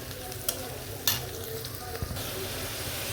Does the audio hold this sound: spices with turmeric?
yes